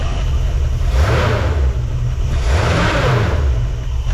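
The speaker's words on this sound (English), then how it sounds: "Let's give it a rev." A Ford F100 engine, just tuned, revs twice in close succession, rising and falling with a deep rumbling roar, loud and near, no talk.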